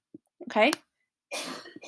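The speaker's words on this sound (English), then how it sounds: "If you can hear her coughing in the background." A short, rough cough in the background, followed by a brief spoken word.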